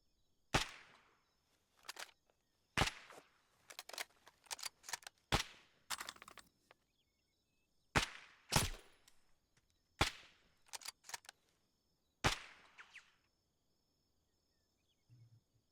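Bursts of rifle gunfire in a military video game, aimed at the gunner on a technical vehicle. Sharp, crisp shots fire in single and double cracks with short pauses between them, fairly close, with no talking.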